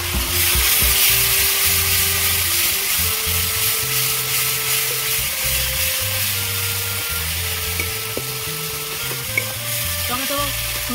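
Tomato, ginger paste and Kashmiri chili powder fry in a pan with a steady, close sizzle and occasional stirring scrapes throughout, no talk.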